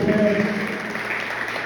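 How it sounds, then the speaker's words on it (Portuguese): A church congregation claps during a worship service, a moderate wash of applause that starts under a fading voice and then carries on alone for a moment. "Dê uma linda salva de palmas para esse Deus"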